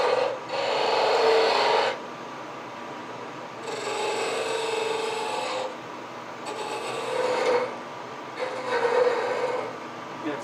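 A turning tool cuts away wood on a lathe-spun wooden acorn, giving loud rasping scrapes in four sustained passes of a second or two each, with brief quieter gaps between them.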